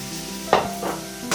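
Kielbasa and vegetables reheating in a pan give a soft sizzle with a couple of sharp stirring scrapes, close and fairly quiet, with no talking.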